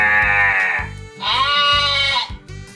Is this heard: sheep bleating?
yes